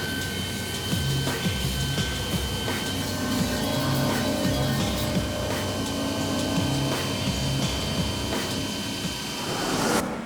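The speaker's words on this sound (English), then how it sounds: "I'm actually using the CNC mill" A CNC mill cuts a propane manifold channel into a sword blade for the Voltron Blazing Sword, giving a steady, continuous machining drone with faint repetitive ticks and no talking.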